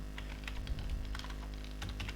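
Fingers tap quickly on a computer keyboard while entering data into an Excel spreadsheet, a close, quiet run of uneven clicks over a low steady hum.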